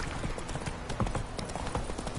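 Hooves of Roach, the horse in Witcher 3, clip-clop in a brisk, busy rhythm, close and fairly loud over a dense background.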